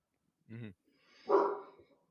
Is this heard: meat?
no